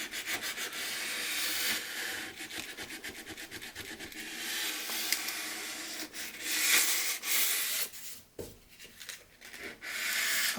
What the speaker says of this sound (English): Always sanding with the grain.